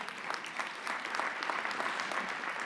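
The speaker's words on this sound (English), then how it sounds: "We'll clap for you guys here." Audience at a mentoring award ceremony giving warm applause, a soft continuous spread of many hands heard from a distance at low level.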